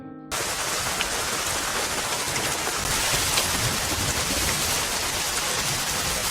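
Heavy rain pours down in a film scene, a dense, loud, continuous hiss that starts abruptly and stays steady throughout, with no voices over it.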